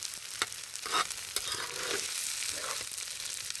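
Noodles sizzling in a hot pan, a steady bright frying hiss with occasional pops and stirring scrapes, close and moderately loud, with no talking.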